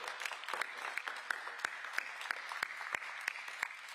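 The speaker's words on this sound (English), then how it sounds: "Yes, you can clap to that." Scattered, fairly faint clapping from a small audience at a New York mayoral jobs announcement, with distinct individual claps spaced irregularly, sounding like a handful of people rather than a full crowd.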